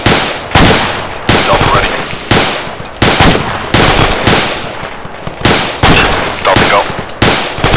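Loud bursts of automatic rifle fire from a military video game, Arma 3, repeat in rapid, evenly spaced volleys close by while radio-style voices give brief commands.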